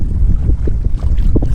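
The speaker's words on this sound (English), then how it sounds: "It's getting pretty dang windy." Wind gusts buffet the microphone as a kayak drifts on a Florida river during inshore fishing, a close, rumbling roar with faint water splashes and knocks against the hull.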